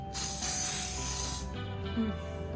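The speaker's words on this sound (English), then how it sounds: "spray it with some non-stick spray" A steady hiss of non-stick cooking spray sprays for just over a second into a 9x13 glass baking dish, loud and close, then cuts off, leaving quiet room sound.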